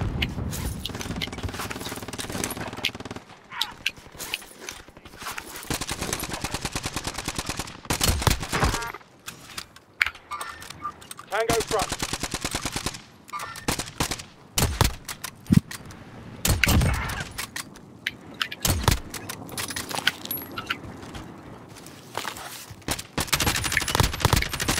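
Gunfire in Warzone on Rebirth Island, with dense rapid automatic bursts and scattered single shots, loud and close, broken by short quieter gaps over about twenty-five seconds.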